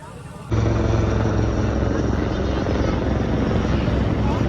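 Sudden loud rotor thumping of a security helicopter flying overhead in Ayodhya starts after a brief quieter moment and continues steadily, close and dominant.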